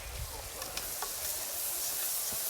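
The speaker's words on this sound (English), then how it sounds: "you want to sweat your onions nice and slowly to bring out the sweetness" Onions sweating slowly in a pan, a quiet, soft sizzle with a few brief stirring scrapes and taps against the pan.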